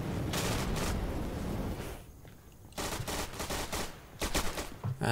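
Automatic and rifle gunfire in the World War II shooter Day of Infamy, loud sustained bursts that drop out briefly near the middle before renewed rapid volleys and sharp cracks.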